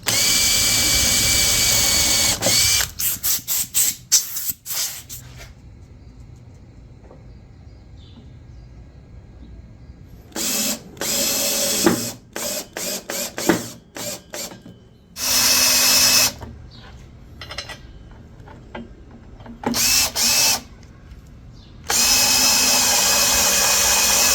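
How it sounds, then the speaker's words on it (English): A power drill whines in repeated short bursts, drilling pilot holes for the legs of a walnut table, revving up and stopping several times with quiet pauses between, close and loud. "I'm going to drill the pilot holes for the legs"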